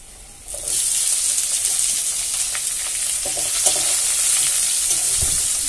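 Chopped onion dropped into hot oil with lightly browned garlic, bursting into a loud, steady sizzle after a brief quieter start, with faint stirring clicks scattered through it.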